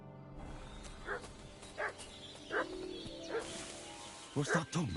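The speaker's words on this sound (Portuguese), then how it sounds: "O que é que o cão está a ladrar?" A dog in a video game barking in short repeated bursts at irregular intervals over a dense music and ambience bed, with someone talking at times.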